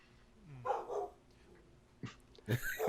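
A dog gives a few short barks and yips, one rising whine-like bark then two sharper barks near the end, fairly close but not loud, with no talking over them.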